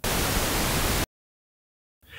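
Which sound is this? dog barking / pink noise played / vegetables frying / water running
pink noise played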